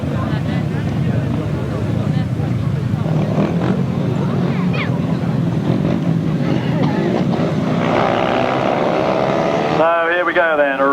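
A pack of 1995 grasstrack racing machines revs loudly together at the start of a championship final, a dense continuous engine roar with rising pitch near the end while a commentator talks over it.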